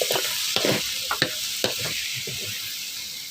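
Spicy eel stir-fry tossed in a pan, a steady close sizzle of frying broken by several sharp scrapes and clatters of stirring, with no talking.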